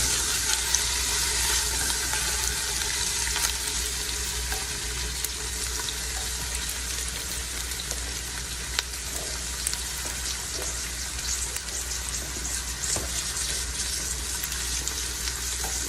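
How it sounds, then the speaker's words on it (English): Onions fry steadily in oil in a pot, a continuous bright sizzle holding at an even level throughout with a few faint clinks and stirring scrapes, no voices. "I'm gonna add the onions in. Add in our onions. Let those cook down."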